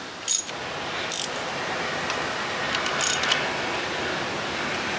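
Ratchet tightening bolts on an abandoned diesel engine under repair, heard as a few brief, crisp metallic clicking bursts above a steady background hum, fairly close and without talk.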